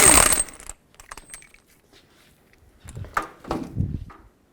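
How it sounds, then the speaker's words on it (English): Lug nuts are removed from the wheel of a 2003-2007 Nissan Murano and clink as they drop. A close metallic rattle comes first, then scattered small taps, then a few more clinks and handling sounds. "21mm socket, remove all 5 of your lug nuts"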